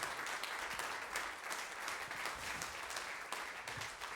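Studio audience on a French television set applauds a singer guest, a steady, dense wash of clapping throughout at moderate level.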